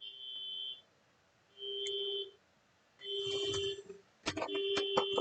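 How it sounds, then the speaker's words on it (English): Electronic alarm beeping from a neighbour's home, sounding in steady repeated tone bursts with short pauses, fairly clear, then joined by denser clattering tones at the end. "I don't know which one of my neighbors is having their alarm go off"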